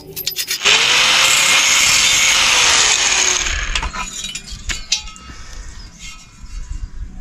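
A 2.5-inch square metal tube is cut by a power tool, giving a loud, harsh grinding whine for a few seconds that fades into lighter clanks and rattles of metal as the cut ends.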